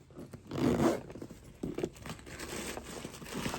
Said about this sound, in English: So there's your zipper, y'all.